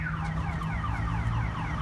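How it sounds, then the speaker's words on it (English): A car alarm blares continuously from a nearby parked car outdoors, its repeating electronic siren tones sweeping up and down over steady background noise. "Car alarm's going off."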